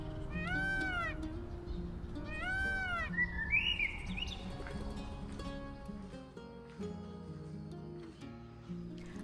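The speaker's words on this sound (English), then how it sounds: "you can clearly hear the birds chirping and even the sound of peacocks" Peacocks call in the distance at dawn, two loud, wailing cries in the opening seconds over a quiet morning backdrop, followed by faint birdsong and scattered chirps.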